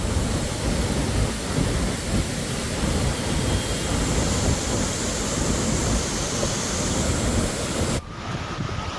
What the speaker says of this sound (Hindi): नदी की धारा इतनी तेज प्रवाह से बह रही है कि मानो सब कुछ खुद ब संभालेगी।